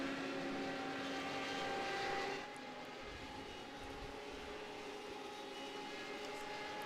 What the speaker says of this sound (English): The engine sounds are roaring and we are ready to go.